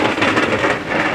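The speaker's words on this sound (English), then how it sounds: "It's raining now." Rain falling steadily in a park in Alicante, Spain, a dense even hiss of moderate loudness throughout, with no voices.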